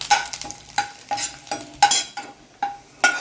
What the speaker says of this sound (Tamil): போட்டு வறுத்து நல்லா வறுத்ததுக்கப்புறம் இதுவும் போட்டு ஒன்றா அரைச்சிக்கலாம்